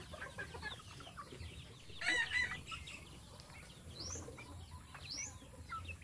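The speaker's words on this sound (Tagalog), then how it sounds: "pag-aalaga ng mga hayop na manok" Backyard chickens raised at home cluck and murmur at a distance, faint scattered calls over a quiet outdoor hum, with a slightly louder cackle in the middle, no talking.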